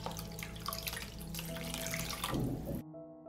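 Water pours steadily into a pot of soup in a home kitchen, a continuous splashing and trickling stream that ends abruptly after about three seconds.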